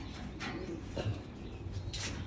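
Japan line racing pigeons coo softly in a loft, with a few low, faint calls spread across a quiet background.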